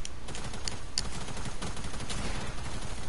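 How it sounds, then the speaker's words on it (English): Video game gunfire, a rapid string of sharp shots with a few louder cracks early on, close and continuous over a dense action background, no talk. "Oh God, I just got shot."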